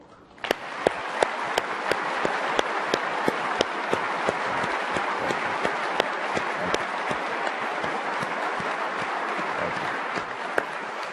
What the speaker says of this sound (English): I would ask that we give a round of applause to Jeff